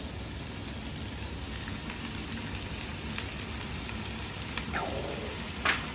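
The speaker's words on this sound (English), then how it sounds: "Now get your holy Trinity in your hot pan. Listen to that sizzle" A steady, dense sizzle of onion, celery and bell pepper frying in a hot pan, with occasional crackles and a brief clink of a utensil near the end.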